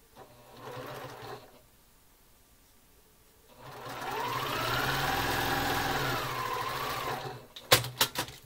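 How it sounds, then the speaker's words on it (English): A sewing machine stitches quilt pieces corner to corner in two runs, first a short burst and then a steady whirring stretch of several seconds, close and clear, ending with a few sharp clicks and knocks. "We're going to sew from the top, or from the corner to corner"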